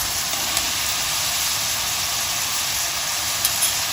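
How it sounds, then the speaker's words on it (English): Carrots and mushrooms sauté in a pan for lentil soup, giving a steady, dense hiss of sizzling oil that runs evenly throughout with no pauses. "just saute it for a few minutes till it slightly gets shallow fried"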